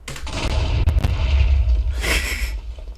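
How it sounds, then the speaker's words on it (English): Creeper explosions in Minecraft, set off in sequence by a redstone block: several booms in quick succession, heavy low rumbling with sharp crackling bursts, loud and close. "it's gonna blow up all of these creepers in order"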